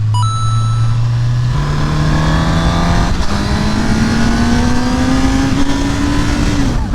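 A Honda CBR1000RR sportbike accelerates hard through city traffic on an Orlando highway, its loud, close engine note climbing steadily through the gears in long rising pulls, with a brief shift drop early on and no talk.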